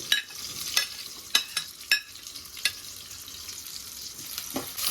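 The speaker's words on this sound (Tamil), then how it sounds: "இப்போ வெங்காயம் நல்லா வதங்கிச்சு. இது கூட பூண்டு சேர்த்துக்கலாம்" Onions frying in a pan as garlic is added for a Tamil chilli kuzhambu, with soft, sharp crackles and several ladle scrapes and taps over a quiet, even sizzle, close and unaccompanied by voices.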